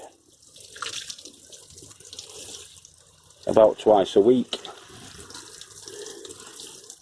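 Water runs steadily into the beds of winter alliums inside an allotment poly tunnel, a soft continuous splashing flow under a voice talking.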